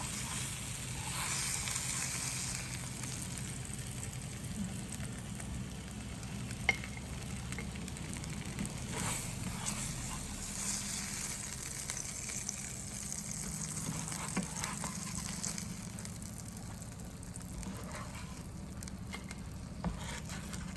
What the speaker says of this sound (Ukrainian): І так само обжарюю рибку, яка лишилась.